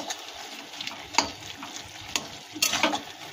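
A vegetarian vegetable curry is stirred in a pan after adding ghee and ground roasted cumin, coriander and fennel. A soft continuous sizzle runs throughout, broken by a few sharper scraping strokes, close and quiet.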